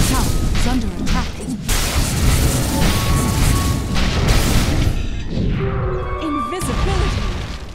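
A tower crumbles in a Dota 2 match, heavy booming crashes and thuds piling up loudly amid battle noise, followed by a descending tonal sweep near the end.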